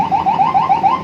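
A Federal Signal siren newly installed on a vehicle wails in a fast repeating rising sweep, about seven quick cycles in a second, loud and close with no talk.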